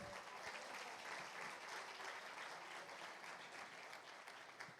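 A church congregation applauding for the Lord, a dense, continuous wash of many hands clapping at moderate distance, steady and unbroken throughout with no voice over it.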